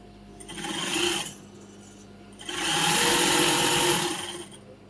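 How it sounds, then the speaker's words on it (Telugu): A sewing machine stitches the top seam of a pyjama, running in two bursts: a short run of about a second, a pause, then a longer, steadier run of roughly two seconds, close and fairly loud with no talk. "దీనికి పైన స్టిచ్చింగ్ చేసుకోండి"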